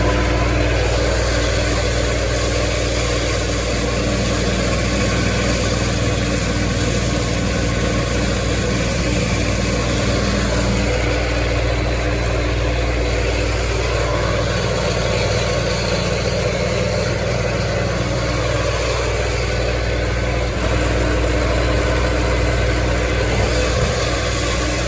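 A farm tractor engine idles steadily in a hayfield during haymaking, a constant low rumble running unbroken for the full stretch with no talk.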